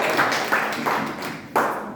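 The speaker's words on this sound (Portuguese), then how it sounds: "Você pode aplaudir a Jesus?" A church congregation claps together at the opening class of a Bible formation course, a short burst of dense, close applause that swells in a few uneven waves.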